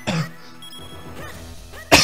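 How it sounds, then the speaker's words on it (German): A single close, loud cough bursts out at the start, then a second abrupt cough or throat-clearing ends the short stretch after near-quiet, during a German-language Zelda: The Minish Cap playthrough. "Tut mir leid, wegen dem Husten."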